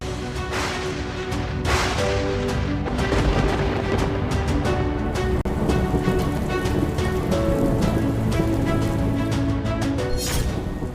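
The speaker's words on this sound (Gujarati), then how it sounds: "મુશળધારથી પાટણ પાણી" A heavy monsoon downpour in Patan, Gujarat, pounds surfaces in a dense, continuous roar of rain that stays loud and unbroken for about eleven seconds, with no voices.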